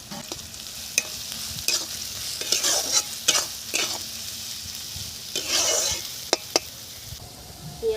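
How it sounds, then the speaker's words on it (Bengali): Onions with cardamom, cloves, cinnamon and nigella seeds frying in hot oil for a river boal fish curry, a steady close sizzle broken by repeated stirring scrapes and a few sharp spoon clinks against the pan. "এলাচ লবঙ্গ দারচিনি আর কালো জিরে ফোড়নে দিয়ে দিচ্ছি পেঁয়াজ"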